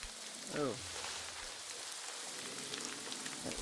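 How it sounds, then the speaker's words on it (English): Steady rain pours across the landscape in the online game New World, a continuous mid-level wash of patter running the whole stretch with a brief louder burst near the start. "It's quite rainy here."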